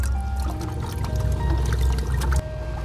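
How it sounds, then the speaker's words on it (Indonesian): Homemade microbial liquid (MOL) made from rice-washing water, cooked rice and forest microorganisms is poured into a bottle after stirring, a close, continuous gurgling pour with splashy trickles that stops abruptly near the end. "Kita aduk-aduk dulu ya supaya kita gampang memasukkannya di botol ini."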